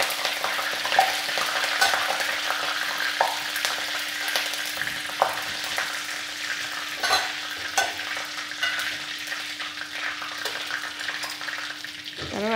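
Curry leaves sizzling and crackling in hot oil for a fish curry, a steady close fry with scattered sharp pops and occasional stirring scrapes, no talking.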